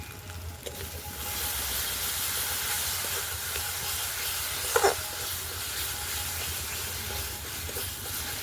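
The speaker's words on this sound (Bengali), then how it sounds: "মশলাটাকে ভালো করে ফুটিয়ে নেব।" Spice paste for a rohu fish curry with brinjal sizzles and bubbles in a pan, a steady close hiss that runs almost the whole time, with one brief louder spatter near the middle.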